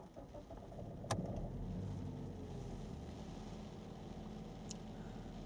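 A BMW E90's engine is started with a brief sharp click and then settles into a steady, low, continuous idle rumble that runs close by, with no talking.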